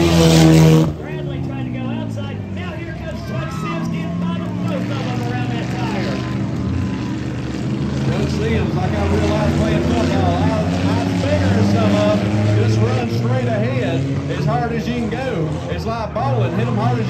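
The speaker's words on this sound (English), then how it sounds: "K-Man car and Bradley all going at it into turn three" Race cars in a flag pole race at Harris Speedway, engines droning and revving continuously as several cars battle into a turn, loud and close, with a commentator talking over them.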